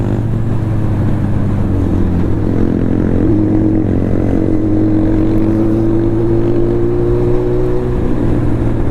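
A Suzuki Hayabusa motorcycle cruises steadily in fifth gear, its engine giving a loud, continuous drone that slowly rises in pitch over several seconds with no voices.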